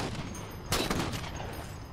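A single sharp sniper rifle shot in the Halo 4 game cracks out loud at once, then a short rolling tail decays under steady background game ambience.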